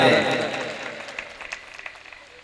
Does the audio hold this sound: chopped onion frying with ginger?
no